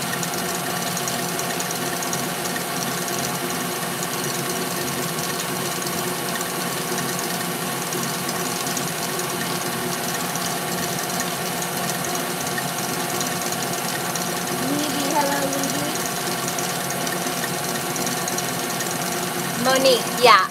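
A stand mixer with a whisk attachment whips a small batch of macaron batter in a bowl. A steady, loud mechanical whirring drone runs throughout, with a few clicks near the end and a voice talking over it.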